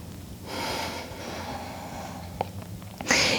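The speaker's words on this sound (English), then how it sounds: "Take 3 deep breaths, inhaling through the nose, exhaling out the nose." Slow, deep breaths drawn in and pushed out through the nose during a calm guided exercise, soft and close, with a sharper sniff near the end.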